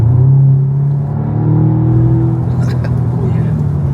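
A car drives along a wet road with a steady low engine rumble and tyre noise throughout, with a brief surge of engine revs and some faint hiss from the wet surface, heard from inside the vehicle.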